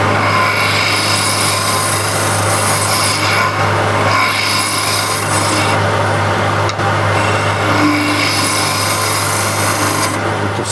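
A skew chisel cuts tough wood spinning on a lathe, a loud continuous rasping, scraping roar with a steady low motor hum beneath it.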